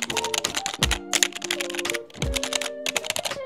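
Typing on an inexpensive Havit computer keyboard, a rapid close run of plastic key clacks in bursts with two brief pauses, heard alone.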